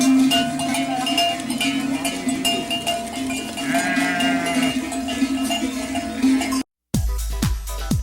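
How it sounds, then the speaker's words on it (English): A flock of sheep wearing bells makes a steady, busy jangle of overlapping clanks and rings, with occasional bleats among the animals, continuing for several seconds before a few louder, nearer clanks. "Bells, worn by sheep, can make the shepherd's job of managing the flock much easier."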